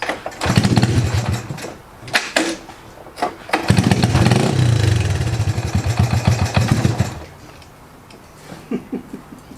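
A 1979 Honda ATC110 engine runs unevenly nearby, revving in rough bursts that sag and surge as it struggles to hold an idle, loud and close with no speech.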